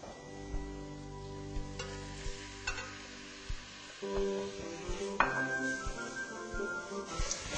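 Ground beef and ground pork browning in a pan for an Italian sauce, with a steady low sizzle under repeated clinks and scrapes of a utensil stirring against the cookware.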